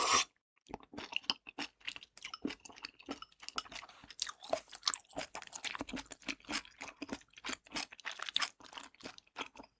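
Someone chews and bites into pork gukbap, a Korean pork and rice soup, with close, crisp, uneven wet crunches and mouth sounds throughout, and nobody speaks.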